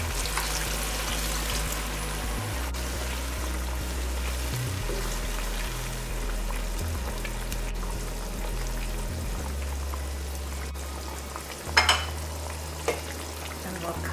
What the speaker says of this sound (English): Now I'll add boiling water.